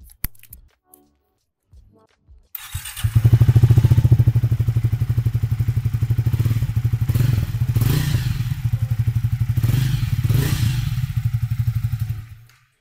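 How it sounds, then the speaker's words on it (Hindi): A Triumph Speed T4 motorcycle exhaust starts up after a few seconds of quiet clicks, then settles into a loud, steady, close-up idle with a deep pulsing thump and occasional blips of the throttle. "exhaust note मिलता है with this Speed T4."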